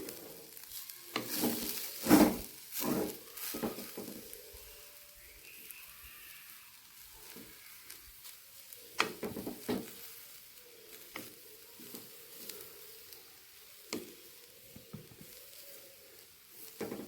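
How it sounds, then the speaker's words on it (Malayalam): Beetroot and freshly grated coconut being stirred together in a pan, giving soft scraping and sizzling with a few louder clanks of the spoon against the pan, with quieter stretches in between. "ഈ സമയത്ത് നമുക്ക് ഇതിലേക്ക് തേങ്ങ ചേർക്കാം കേട്ടോ നമുക്ക് ഇളക്കി കൊടുക്കാം"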